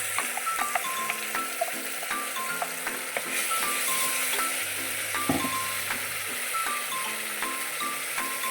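Onions and masala spices fry in oil for a chicken gravy, crackling and sizzling steadily throughout while a spoon scrapes and clinks against the pan in quick, irregular taps.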